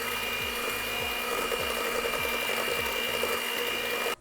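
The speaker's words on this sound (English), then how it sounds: "And we're just gonna give this a little whisk" Pumpkin spice is whisked into cheesecake batter, heard as a steady mechanical whir with a regular rhythmic pulse about twice a second. It stays loud and constant before stopping abruptly at the end.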